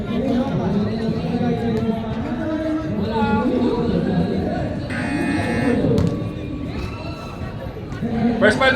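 A buzzer sounds at an elimination-round basketball game. A loud, steady electronic tone lasts about a second over busy crowd chatter, and players and bench voices talk throughout.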